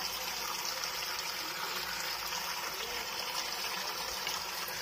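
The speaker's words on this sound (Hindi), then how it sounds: "पत्थरों में फिल्टर हो रहा पानी" Steady, continuous trickle of water running over stones, a constant close-up wash with no talking.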